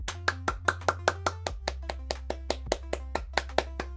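Steady hand clapping, about four claps per second in an even rhythm, sounds close and fairly quiet, with a low sustained tone running underneath.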